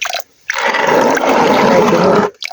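Clean spring drinking water on a rural farm gushes in a loud, close rush for about two seconds, preceded and followed by brief splashes, with no talk.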